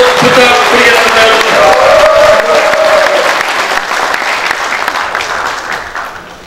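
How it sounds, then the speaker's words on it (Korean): An audience at a Korean regional councillors' rally claps loudly in a dense burst, with a brief cheer or whoop early on and a voice over the crowd, fading as the clapping dies away. "큰 박수 한번 부탁드리겠습니다"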